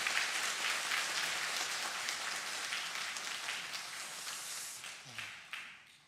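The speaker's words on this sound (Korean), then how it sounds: "우리 인사하실 때 환영의 박수 바랍니다." Church congregation giving a round of welcoming applause during a Sunday service, a dense wash of many hands clapping at moderate distance that fades toward the end, with a couple of louder claps near the close.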